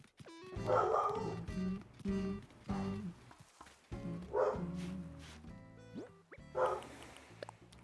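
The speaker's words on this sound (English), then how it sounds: "No barking, baby." Dog barking during an Animal Crossing: New Horizons session on Switch 2, a few loud barks and yips in bursts over soft game music.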